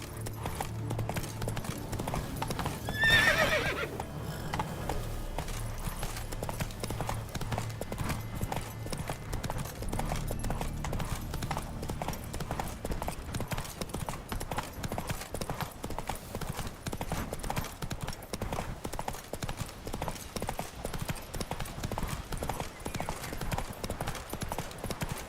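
Roach, a horse in The Witcher 3, gallops steadily with a dense, fast, rhythmic patter of hooves throughout, close and continuous over low background music, with one brief louder whinny-like burst early on.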